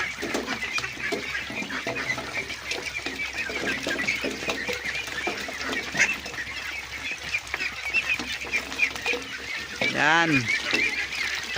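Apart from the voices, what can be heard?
domestic ducks eating azolla feed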